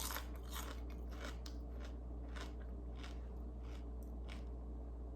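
Crispy fried beef tendon snack is chewed close up, a series of sharp irregular crunches over about five seconds, quiet otherwise with no talk.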